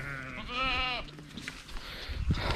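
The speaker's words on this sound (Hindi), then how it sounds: "अब आपको एक बकरा दिखा देते हैं" A goat on a Pakistani goat farm lets out one loud, wavering bleat up close, followed by softer rustling and handling noises.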